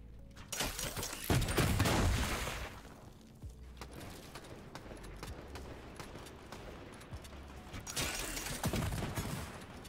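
Loud bursts of distant and nearer automatic gunfire in Fortnite, a heavy volley early on and another toward the end, with scattered shots and game noise in between.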